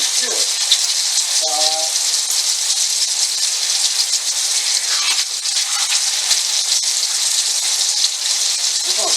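Potatoes frying on high heat in a small, overfilled skillet give a loud, steady hiss and crackle throughout, with brief bits of voice over the sizzle.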